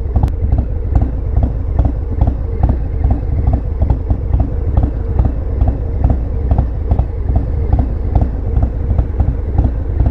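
A 2020 Harley-Davidson Low Rider S idles with an S&S 475C cam, giving a loud, loping, uneven thump of regular exhaust pulses that repeat steadily at close range.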